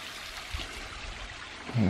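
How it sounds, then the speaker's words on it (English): Steady rushing and splashing of a waterfall on a forest trail in Shawnee National Forest, moderately distant, continuous throughout with no talking. "Here's that waterfall."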